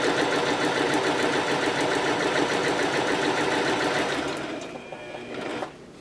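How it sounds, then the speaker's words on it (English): A sewing machine stitching through fabric on a paper foundation for quilt blocks, a fast, steady mechanical whir and needle chatter running close and loud, then slowing and stopping near the end. "I'm going to go and sew a little bit"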